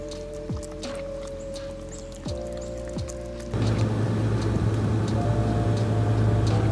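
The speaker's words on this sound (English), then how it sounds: "I put water in it and then I pour that water into her lick mat." Water poured from a box onto a dog's lick mat, a steady close splashing and trickling wash that swells louder partway through, over faint indoor tones and a few brief clicks.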